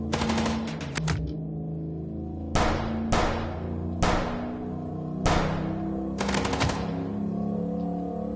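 Shooting from a car: a fast opening burst, then several separate loud, echoing shots or short bursts at roughly one-second gaps over a steady low engine hum, with no voices.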